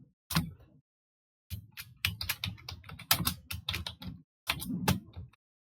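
Keys clatter on a computer keyboard during web coding work, a short burst, a pause, then a long run of rapid close taps and a final cluster, with no talking.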